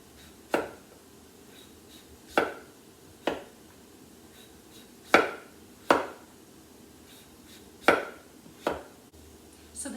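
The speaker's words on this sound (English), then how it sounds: "So now we're going to cut the sides and go along, being very careful." A knife cuts along the sides of a butternut squash, giving about nine sharp, separate chops and crunches at uneven intervals, close and crisp against a quiet background.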